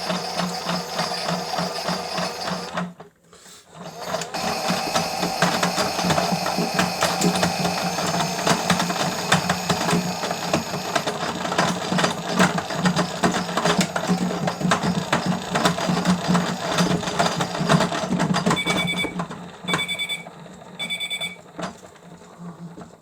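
A Miele W1 toy washing machine runs a Cottons 30 wash cycle, a continuous whirring mechanical drone with rattling gear noise, briefly cutting out near the start, then closing with a few repeated electronic beeps.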